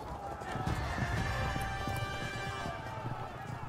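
Horse archers gallop in the medieval strategy game Field of Glory 2 Medieval, a dense drumming of hooves running continuously through the stretch with neighing mixed in and a voice talking over it.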